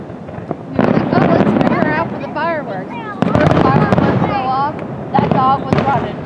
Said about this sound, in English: The fireworks go off.